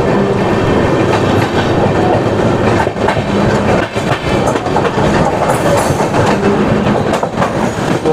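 Patalkot Express passenger train running on the Delhi to Firozpur route, with a steady loud rumble and rhythmic clickety-clack of wheels over rail joints throughout, heard from on board.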